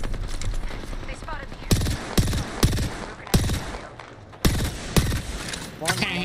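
Gunfire from the video game Apex Legends rings out as a string of sharp, loud shots, some in quick bursts and others spaced apart, over background game noise and some voices.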